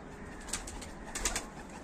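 Soft pigeon cooing drifts in from a short distance, a few brief calls over a steady outdoor hiss.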